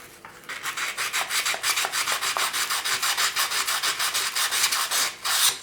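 A folded strip of abrasive is rubbed over the blades of a cheap ruling pen to hone them. It makes a fast, even series of short, dry rasping strokes, close and clear, with a slightly louder final stroke.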